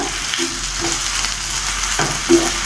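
Gongura (sorrel) leaves sauté in a pan, with a continuous sizzle and several short scrapes of stirring spaced through the clip, nearby and with no speech.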